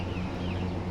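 A big rooster of around 5 kilograms at an animal auction in Kuwait gives a short, dense, throaty call close by, lasting under a second with no talk over it.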